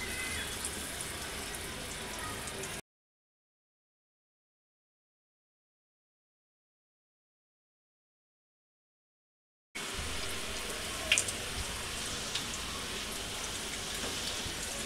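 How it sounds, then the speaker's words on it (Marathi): Manchurian balls drop into hot frying oil and sizzle with a steady, rain-like hiss, broken by a long stretch of complete silence before the crackling resumes with a few small pops. "हे छोटे छोटे गोळे असे बनवायचे आणि आपण तेलामध्ये सोडूया"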